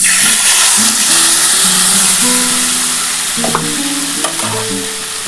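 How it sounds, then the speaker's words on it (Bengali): Steady, loud sizzling of tomato and green chili frying in hot oil, with occasional scraping and stirring sounds throughout; no voices. "ওই তেলের মধ্যে আমি প্রথমে টমেটো আর কাঁচা লঙ্কাটা দিয়ে দিচ্ছি।"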